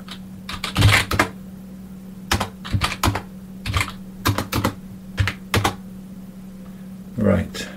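Keys on a computer keyboard are pressed in short bursts while a number is entered into the Pilot programming language running under CP/M. The crisp clacks come in small clusters over a steady low electrical hum.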